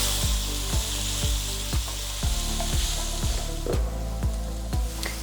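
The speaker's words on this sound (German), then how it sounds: "Und dann gebe ich noch den Sojagranulat in die Pfanne und den werde ich ganz kurz anbraten." Soy granules sizzle and crackle in a hot pan while a utensil repeatedly scrapes and taps against it in a steady rhythm.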